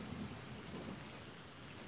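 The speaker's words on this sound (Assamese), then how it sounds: "ছেম বৰষুণ দিয়া নিচিনা আপুনি অনুভৱ কৰিব পাৰে, চকু জিপি আপুনি অনুভৱ কৰক বৰষুণৰ আমেজ।" Recorded rain and thunder from a relaxation website play as an even, soft wash of downpour with low rumbling underneath, steady for under two seconds.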